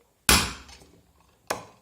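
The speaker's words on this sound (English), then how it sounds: "And I will hammer the whole surface." A hammer strikes a thin metal pot surface about 0.7 millimeters thick twice, each blow a sharp, ringing clank with a short decay and a pause of about a second between them.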